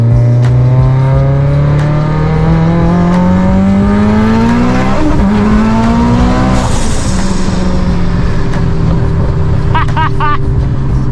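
A tuned all-wheel-drive Honda Civic Type R on a stock motor pulls hard on a short, part-throttle run with fuel low, the engine note climbing loudly through the revs, easing off midway, then climbing again as voices talk over it.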